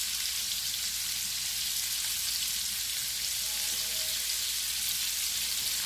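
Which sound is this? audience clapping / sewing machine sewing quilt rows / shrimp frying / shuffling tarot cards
shrimp frying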